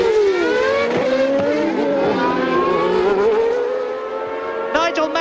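Formula 1 cars from the 1991 French Grand Prix screaming past close by, high engine whine sweeping through rising and falling gear changes, loud and continuous, with a second car's note joining near the end.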